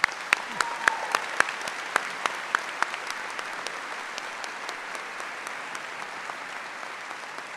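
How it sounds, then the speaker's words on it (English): Applause for introduced guests at a university announcement event, steady moderate clapping from a seated audience with a few sharp, close claps standing out early, fading slightly toward the end. "Let's give them a big hand as well."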